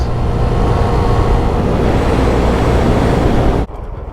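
A small scooter engine runs steadily with a constant buzzing drone and road noise, cutting off abruptly near the end.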